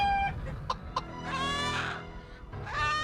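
Chickens in the video game Serious Sam 2 cluck and squawk in short, close bursts, with a couple of sharp clucks between longer squawking runs.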